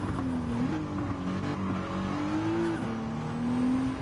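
A race car circles a track in Gran Turismo 7, its engine drone holding steady and rising in pitch through gear changes, moderately loud and continuous with no voices.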